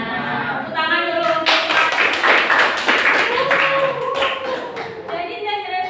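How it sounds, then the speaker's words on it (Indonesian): A classroom gives a round of applause: several seconds of clapping from a group of students, mixed with voices chattering underneath, with speech before and after the claps. "Tepuk tangan dulu."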